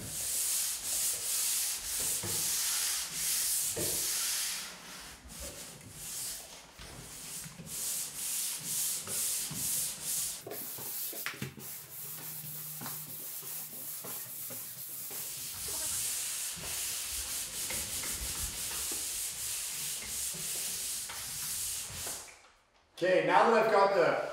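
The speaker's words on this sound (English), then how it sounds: "I'm gonna use my sander and just go over the center of the joint" An electric sander works over a drywall joint coated in joint compound, a steady broadband rubbing hiss running almost continuously and close, with brief dips and a short pause near the end before it resumes loudly.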